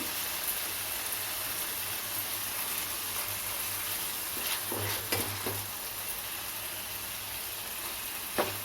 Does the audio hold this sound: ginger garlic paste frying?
yes